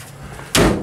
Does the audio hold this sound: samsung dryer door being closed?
yes